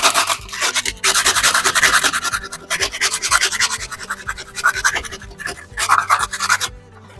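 A hand scraper rasping grit off a painted house wall, steady close back-and-forth scratching strokes repeated for several seconds with brief pauses between passes.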